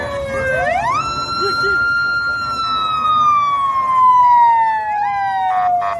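A minister's vehicle passes through heavy traffic with its siren wailing loudly, the tone rising and then gliding slowly downward over several seconds against a steady rumble of road noise.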